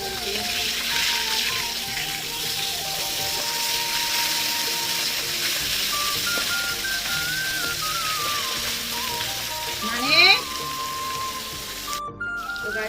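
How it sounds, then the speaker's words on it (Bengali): Small puti fish frying in a pan of oil give off a steady, even sizzling hiss that runs throughout, with faint background tones and a brief louder clatter near the end. "মাছগুলো একটু মতো করে ভাজা করবো"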